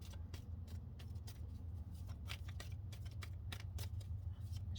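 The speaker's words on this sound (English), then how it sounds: "Shuffle these thoroughly." Tarot cards are shuffled, making a faint, steady stream of soft riffling and slapping clicks over a low background hum, with no talking.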